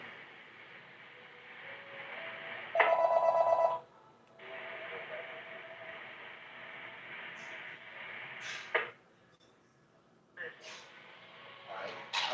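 A computer call ringtone rings once for about a second, a bright repeating electronic tone, standing out clearly over a quiet background of room noise and a few faint clicks.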